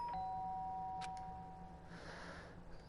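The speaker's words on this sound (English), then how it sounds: "The sharp sound of the doorbell pierced my sleepy haze and pulled me back to the real world." Doorbell ringing in the video game Danganronpa, a bright two-tone electronic chime sounding once, followed by a softer noisy rustle.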